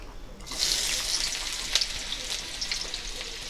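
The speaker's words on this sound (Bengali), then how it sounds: "এবার আমরা এই তেলে দিয়ে দিলাম পেঁয়াজ কুচি।" Chopped onion drops into hot oil with cumin seeds, setting off a bright, hissing sizzle that starts suddenly and then holds steady, close and fairly loud, with a few crackling pops.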